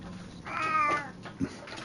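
A cat meows once, a clear drawn-out mew close by, followed by a soft short chirp.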